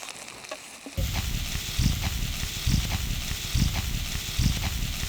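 Sliced mushrooms, onion and a little garlic start sizzling loudly in a frying pan, a steady hiss with rhythmic scraping surges as the mix is stirred.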